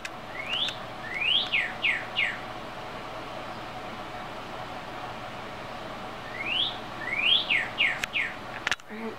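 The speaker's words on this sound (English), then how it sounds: "That bird sounds so close. It was a cardinal" A cardinal sings close by, giving two bursts of clear, rapidly repeated downslurred whistles separated by a quiet pause over faint background hiss.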